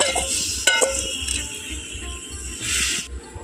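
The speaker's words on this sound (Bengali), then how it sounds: "এইভাবে নাড়াচাড়া করে নেব" A spoon stirs grainy mango pickle, preserved without oil or jaggery, in a pot with rhythmic scraping and light metallic clinks against the rim, close and steady throughout.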